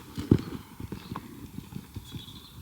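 A horse canters inside an indoor arena, its hooves landing in a quick rhythmic run of soft thuds, moderately near and fairly faint, with one sharper hit early on.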